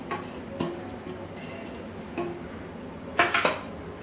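A spoon clinks and scrapes in a bowl while sauces are stirred together with shredded cabbage and carrot for a mayo and Schezwan sandwich filling; a few sharp knocks stand out over a quiet background, with no talk.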